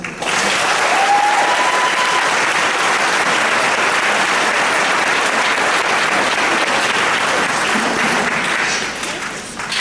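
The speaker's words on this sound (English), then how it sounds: "a round of applause for them" Sustained, loud applause from an audience at a high school graduation ceremony, a dense continuous roar of many hands clapping that holds steady for about ten seconds before easing slightly at the end.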